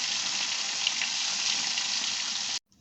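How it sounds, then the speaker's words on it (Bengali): Small fish sizzle in hot oil for a turmeric-seasoned mukhi dish, a steady close hiss of frying that runs evenly for most of the clip before cutting off abruptly. "তেলটা আমার গরম হয়ে গেছে তখন আমি মাছগুলো দিলাম"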